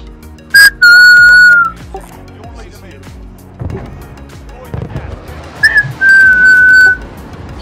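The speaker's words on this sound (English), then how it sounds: "He whistling." Someone whistles two short sustained notes, a few seconds apart, loud and close, amid clicking and thumping game sounds in a video game match.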